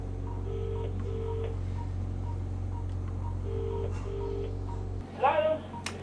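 A vet's phone dialing a pet owner named Carol: short, evenly spaced dial tones in two groups over a steady low hum, followed by a brief louder burst as the call connects.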